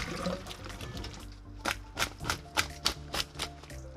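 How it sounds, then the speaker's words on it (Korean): Salted cucumbers rinsed with water and drained in a sieve, giving splashing and trickling water followed by a run of sharp, rhythmic knocking or shaking bursts, close and moderately quiet, with no voices. "절인 오이를 살짝 씻어 체에 받쳐 물기를 빼주세요."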